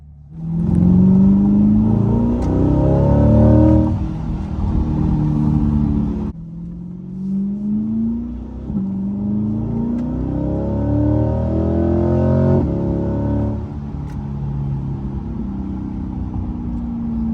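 A 2021 Chevrolet Corvette C8's exhaust rumbles and growls as it accelerates through gear changes, rising and dropping in pitch, loud and close from inside the car.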